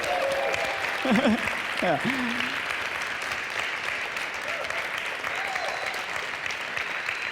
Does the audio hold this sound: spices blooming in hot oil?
no